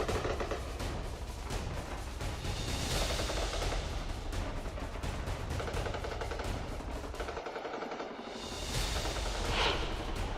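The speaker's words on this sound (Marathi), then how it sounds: "जम्मूतील आंतरराष्ट्रीय सीमेवर पाकिस्तानकडून हा गोळीबार करण्यात येतोय।" Sustained bursts of machine-gun and rifle fire along the international border in Jammu, dense and continuous, with rapid overlapping reports that briefly drop away before resuming loudly, and no voices over it.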